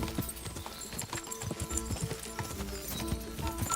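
A horse gallops in the video game Kingdom Come: Deliverance, with rapid, rhythmic hoofbeats and a faint whinny, fairly quiet overall.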